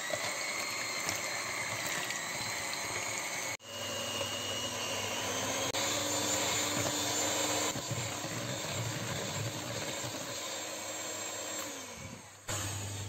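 An electric mixer whirs steadily, beating sugar, eggs and almond flavouring into a smooth almond biscuit topping, with a continuous motor drone that briefly cuts out and restarts.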